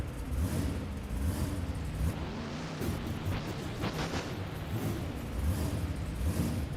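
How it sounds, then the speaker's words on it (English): Monster truck engine mod in BeamNG.drive during a two-wheel skills and freestyle competition, a loud continuous rumbling roar with surges of revving and bursts throughout, alone without talk. "These engine sounds can be found on BeamMonsters.com."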